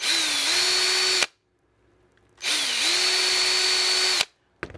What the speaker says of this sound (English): You know, you just take that drill back to it.